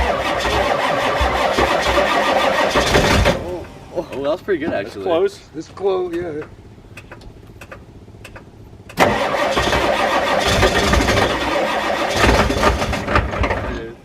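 A Ford F350 diesel truck engine on a cold morning, running loud at first, then cut off. Quiet talk follows before it cranks and fires back up into a rough, loud idle that carries to the end, with people speaking nearby.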